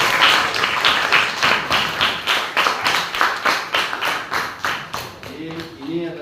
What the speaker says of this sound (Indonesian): mantap, tepuk tangan